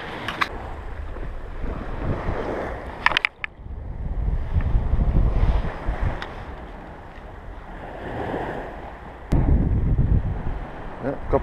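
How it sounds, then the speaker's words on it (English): Wind blowing on the Manukau shore on a morning fishing outing, heavy low buffeting across the microphone in rolling gusts that swell and ease, with brief sharper knocks and a louder gust near the end. "The wind's not too bad, not as still as I'd like it to be, but it's pretty good."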